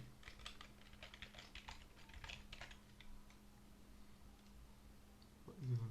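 Code being typed on a computer keyboard, with quick irregular bursts of light key clicks heard close but quiet in a calm room, ending in a brief louder knock.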